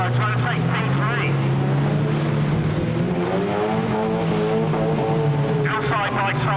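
1600 production race cars racing side by side at Standlake, engines droning loudly and steadily with rising and falling pitch, under continuous commentary.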